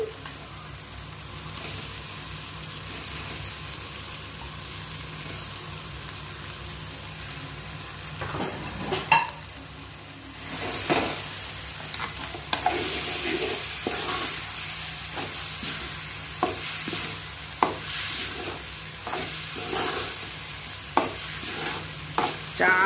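Boiled egg pieces fried for an egg curry sizzle steadily in the pan, then a spatula scrapes and stirs in repeated rhythmic strokes over the hiss.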